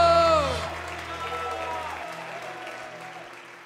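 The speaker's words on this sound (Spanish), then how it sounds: "fuerte aplauso al Señor" Applause from a church congregation during a worship dance and arts event, loud at first as sustained music chords fade out beneath it, then settling into steady clapping that slowly tapers off.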